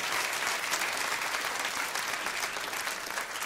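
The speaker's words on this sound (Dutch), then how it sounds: "Even een tussendoor applaus voor het geweldige orkest," An audience applauds an orchestra at a live 1998 stage tribute show in the Netherlands, with dense, steady clapping that fills the whole stretch at an even, loud level.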